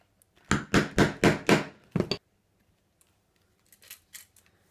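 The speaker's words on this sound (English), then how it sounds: "I'm using a 6-prong chisel for this just because it moves a lot faster." Sharp hammer strikes drive a six-prong steel chisel through leather. About six quick, loud blows land in a fast burst, followed by quieter, scattered tapping.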